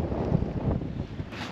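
Strong wind blows outdoors by the water as a squall approaches, a continuous low roar and buffeting rumble against the microphone, loud and steady, with no voices.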